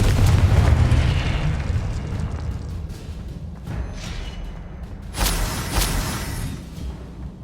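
Confringo blasting spell cast in Hogwarts Legacy, a fiery magical explosion: a deep rumbling boom at the start that fades, then a second sharp burst with a bright crackling tail near the end, loud and close with no talk.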